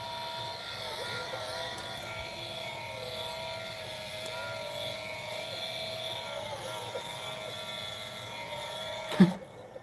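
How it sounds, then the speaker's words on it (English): DJ equipment stepper motor running through its reset pattern gives a steady, droning mechanical whine with layered tonal hum, fairly close, ending in a brief knock. "It only makes that kind of noise when it's going through its reset pattern."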